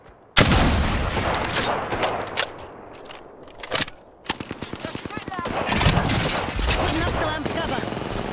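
Rapid bursts of game gunfire, loud and close, crackle across most of the stretch, with a brief lull before sharp repeated shots resume and keep going under a dense mix of other in-game effects.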